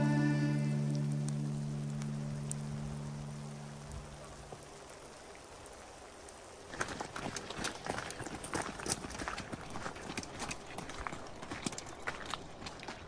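Hail in the Dolomites, first as a soft hiss under a fading tone, then from midway as a dense, loud patter of pellets drumming on nearby surfaces.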